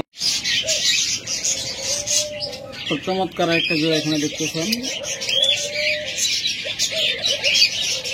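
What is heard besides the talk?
budgerigar birds chirping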